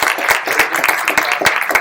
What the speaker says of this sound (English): I want to give Dr. Lyons one more round of applause.